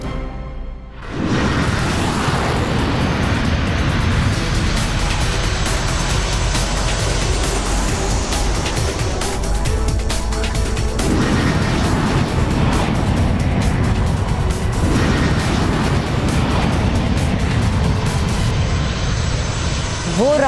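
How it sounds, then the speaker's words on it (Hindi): An aircraft flies overhead in a loud, continuous engine roar. After a quiet first second it stays constant and heavy, with slight shifts in tone. "वो रहा विमान।"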